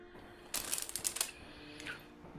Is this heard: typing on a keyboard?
yes